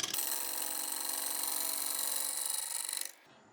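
Wood shavings pelting the turner's hand as a chopping board blank spins on a woodturning lathe: a dense, continuous hissing rasp that holds loud and steady for about three seconds, then cuts off abruptly.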